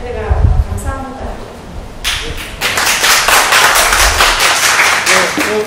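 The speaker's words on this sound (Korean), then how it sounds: "세 분 수고하셨는데 박수 한 번 더." Audience applause breaks out at a literary talk event held by a Busan writers' association. Steady, dense clapping fills the room after someone speaks briefly at the start.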